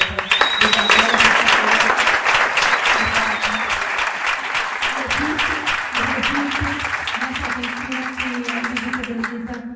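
An audience at a book presentation applauds warmly, with sustained, crisp clapping throughout while voices speak and call out over it.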